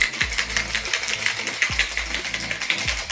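Cocktail shaker packed with ice being shaken for a New York Sour, giving a fast, steady rattle of ice against the tin with a few heavier knocks, close and continuous without talk.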